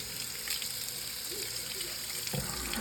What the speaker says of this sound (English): And turn on the water.